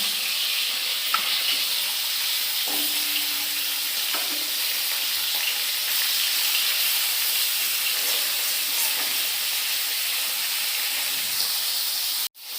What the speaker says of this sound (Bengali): এই যে মাছ ভাজা বসাইছি।